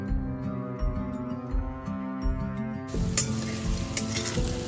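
Potatoes frying in a pan for egg curry, giving a soft continuous sizzle under a steady low background hum, with a few stirring clicks and a brighter crackle in the last stretch.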